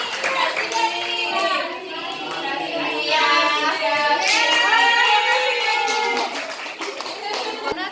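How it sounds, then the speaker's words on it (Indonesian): Children applauding in a classroom, a sustained burst of hand clapping that fills the room at close range, with a few kids' voices mixed in. "Bagi tepuk tangan dong buat Sila."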